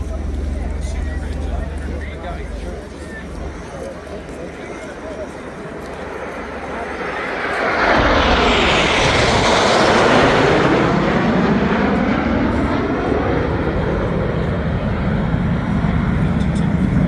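Military jet aircraft at the RIAT air show swelling into a loud, broad roar as it passes overhead, with a public-address announcer talking throughout.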